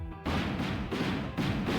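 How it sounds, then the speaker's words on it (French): A loud, sustained explosion blast in the space roguelite game Comet Force, with a dense roaring burst that swells again near the end. No talking. "Explosion."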